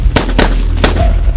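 Three sharp gunshots from a sound effect in a narrated story burst out loud and close, spaced unevenly over about a second, each with a short crack and a trailing boom.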